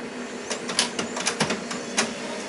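A Samsung CLP-680ND colour laser printer initializes, producing close mechanical whirring with a rapid series of clicks and clacks from its rollers and internal parts.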